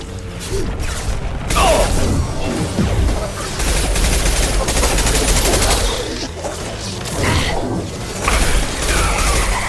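Heavy gunfire in the Mass Effect 2 video game, a dense, continuous barrage of shots and mechanical clatter that stays loud for the whole stretch, with brief swells and no pauses.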